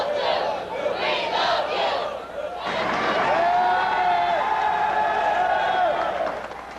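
Enthusiastic crowd at the Notre Dame Seminary in New Orleans cheering for Pope John Paul II in 1987, a loud, sustained roar of many voices with whistles and shouts, building after a brief dip.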